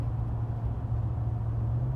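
A 1949 Allis-Chalmers WD tractor engine running rough, a steady low, uneven rumble heard up close without any voices.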